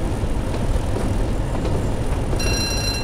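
Rumbling train from Train Sim World 2 on the Tees Valley Line, braking with a dense low rolling drone and faint high squeal appearing near the end, loud and steady with no talk.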